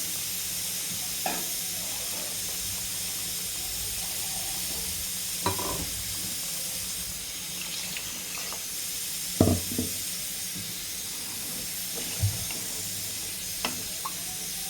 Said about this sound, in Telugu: ఇప్పుడు జార్లో ఉన్నది కదా, ఆ వాటర్ వేసేస్తున్నా